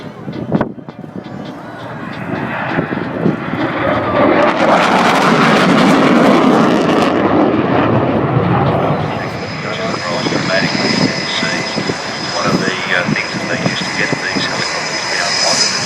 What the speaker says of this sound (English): The signature maneuver, the dump and burn.